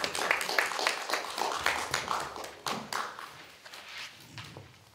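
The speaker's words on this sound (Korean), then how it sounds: "여러분 박수 한번 부탁드립니다." Scattered clapping from a small audience at a cultural troupe's appointment certificate ceremony, heard as a few minutes of uneven hand claps, moderately near and soft, with faint murmuring under it.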